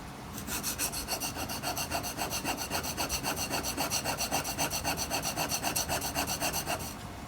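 A hand tool blade is drawn back and forth over an oiled sharpening stone in a steady, even rhythm of rasping strokes, close and clear, with no voices.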